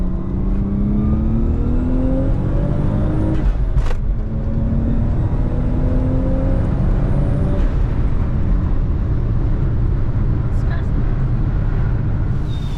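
A turbocharged Lexus IS300 accelerating hard, its engine note rising through rising harmonic sweeps with a brief gear-change break near four seconds, loud and close against steady road and wind noise; a voice talks briefly over it.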